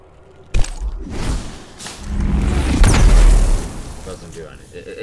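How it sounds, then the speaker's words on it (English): A fusion grenade detonates in Destiny 2 with a sudden loud boom, followed by a rumbling blast that swells and fades over several seconds. "Fusion grenade."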